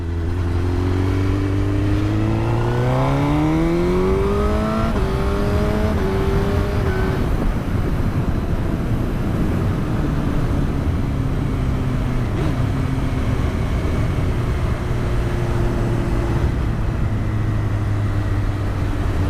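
Suzuki GSX-R 1000 K5 inline-four sport bike fitted with a quickshifter, engine loud and close, revving up through rising gear steps with quick clipped shifts, then holding a steady high drone.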